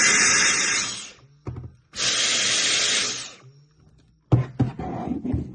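A Dyson Cyclone V10 cordless vacuum running on a Makita battery adapter whirs in three separate bursts, two long steady hissing runs followed by a shorter, sputtering start-up for boost mode, close and loud with no talk.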